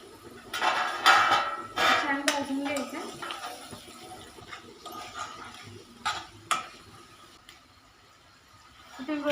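Three green chillies drop into hot oil in a pan for Kolhapuri egg curry, setting off a burst of sizzling with utensil clatter and stirring. The sizzle fades to a quieter fry, with another short flare later.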